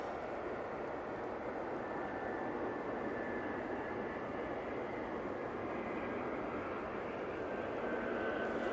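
A Jet2 Boeing 757 taxis at Manchester Airport. Its jet engines give off a steady, distant broadband rumble and whine that holds evenly throughout with no voices.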